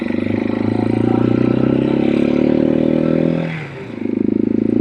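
A Janus Halcyon 250 motorcycle engine, about 10 to 12 horsepower, runs steadily at a loud, close idle with a rich low drone, dipping briefly near the end before picking back up.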